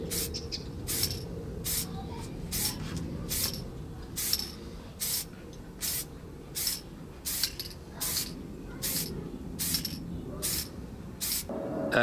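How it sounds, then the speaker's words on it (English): An aerosol spray can hisses in a steady series of short bursts, about one a second, spray painting a model rocket, close by over a low background hum. "So without any further ado, it just needs spraying up."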